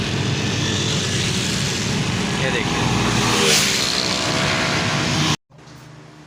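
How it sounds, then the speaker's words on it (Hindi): Several bikers' motorcycles stream past on a road during a fair at a three-day event, a dense continuous engine roar close by that cuts off abruptly near the end, with someone speaking over it. "जितनी देर तक ये बाइकर यहाँ से गुजरते रहेंगे यहाँ पे रोड इस्तेमाल नहीं हो सकेगा"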